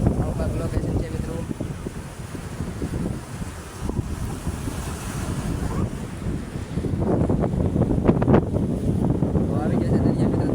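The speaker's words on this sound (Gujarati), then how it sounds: "પવન બહુ છે મિત્રો, અવાજ આવે તો કદાચ તમે એન્જોય કરી લેજો" Strong wind blows at the seashore, buffeting the microphone with a continuous heavy rumble. Surf washes underneath it, and the sound grows rougher and louder in the second half.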